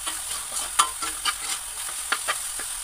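Corn kernels sautéing in a hot pan for ginisang mais, with steady frying hiss and a few sharp stirring scrapes and clinks, close and moderately loud.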